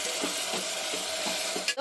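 Chopped dill greens and vegetables frying in a pan, a soft steady sizzle broken by regular stirring strokes, fairly quiet and close, ending with a brief clatter.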